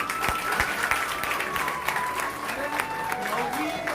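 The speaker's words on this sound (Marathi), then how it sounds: "सगळ्यात पहिलं एकदा जोरदार टाळ्या झाल्या पाहिजे तुमच्या सर्वांसाठी" Steady applause from an audience honouring high-scoring 10th and 12th standard students at a Kharghar felicitation event, continuous and fairly loud with a few sharper claps standing out and some crowd murmur underneath.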